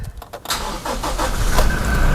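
A Toyota Kijang Innova Reborn 2.4 G diesel from 2018 starts with an ordinary key, a brief cranking catch giving way to a steady, fairly loud diesel idle that keeps running close by.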